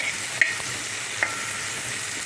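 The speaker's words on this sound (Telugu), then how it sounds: "సో దట్ పచ్చిమిరపకాయలు అన్నీ వేగాలి కాబట్టి, ఉల్లిపాయలు అన్నీ వేగాలి కాబట్టి వేసుకోండి బాగా." Green chillies and onions frying in oil for a spicy green chilli chutney give a constant dense sizzle, with two brief sharp clicks of a spoon against the pan.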